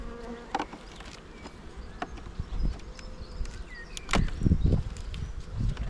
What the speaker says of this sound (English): I thought there was more bees than this